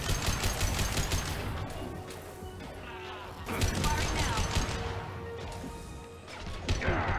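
Sci-fi gunfire in Mass Effect 2 crackles and smashes in rapid bursts during a firefight, loud impacts and shots clustered throughout, with someone talking over the combat.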